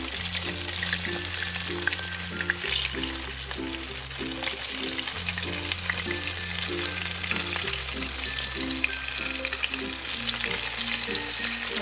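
Maya-maya fish frying in hot oil, a loud, continuous crackling sizzle that holds steady the whole time over soft rhythmic background music.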